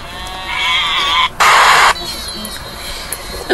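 Goats bleat loudly in a comedy clip, one long wavering bleat followed by a sharp, strained cry, near and harsh over faint background noise.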